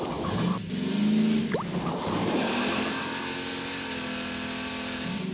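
Jeep driven in the game Garry's Mod, a steady mid-pitched engine drone that rises briefly, then settles into an even hum, with a couple of short thuds early on and no speech.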